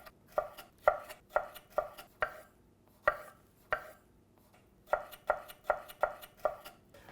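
A kitchen knife dices tomato into small cubes on a board, making crisp, close chops in quick rhythmic runs with short pauses between bursts; no voices.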